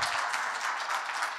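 An audience at the EU Human Rights Short Film Competition award ceremony applauds a winner, with dense continuous clapping that stays even and fairly full throughout.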